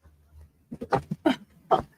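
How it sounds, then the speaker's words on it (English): Dogs give a few short, close barks and yelps in quick succession indoors, with quiet gaps between them. "somebody's knocking the door and these fucking dogs are barking"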